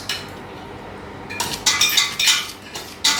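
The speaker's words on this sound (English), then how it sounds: "It's hard whisking this" A whisk clinks and scrapes against a bowl while butter and chocolate are mixed for a chocolate beetroot brownie, with irregular metallic clatters that grow busier and louder in the second half; no talking.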